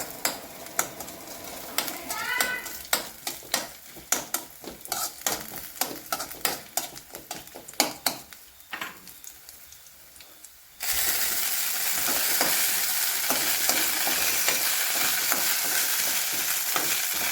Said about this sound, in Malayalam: ഞാൻ ചെറിയ ചെറിയ പീസാക്കി വെച്ച തേങ്ങ പിടിക്കിടാം നന്നായിട്ട് ഇളക്കി കൊടുക്കാം